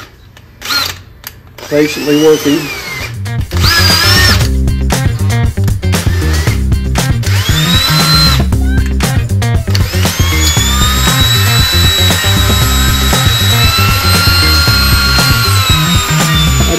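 A power drill whines and grinds steadily into a broken metal bolt, revving loudly with short stops and restarts, while someone speaks briefly near the start.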